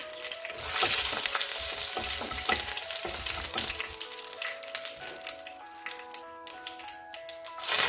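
Dried red chillies and mustard seeds fry in hot oil for a sweet potato stir-fry, a loud crackling sizzle with bursts of popping. Clattering utensil taps are heard close by, with no talk.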